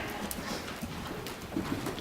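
Hooves of a horse moving around a riding arena thud faintly and irregularly against a steady noisy background, distant and soft with a few clearer hoof strikes.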